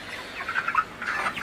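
Broiler chickens in a poultry farm shed give a series of short, close clucks and squawks that rise and fall in quick overlapping bursts, with no voices.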